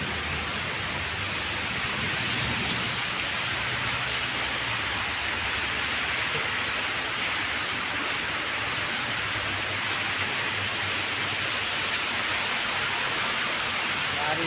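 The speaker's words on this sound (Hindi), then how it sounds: "बारिश ही बारिश है।" Heavy rain falls in Taif, Saudi Arabia, a dense, unbroken hiss of downpour pattering on surfaces at a constant loud level throughout.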